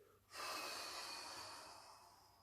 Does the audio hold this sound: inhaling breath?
yes